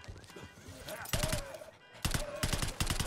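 Bursts of rapid gunfire in the Black Ops 6 campaign as shots are fired at a limo, two dense loud volleys separated by a brief lull, with game sounds and a voice underneath.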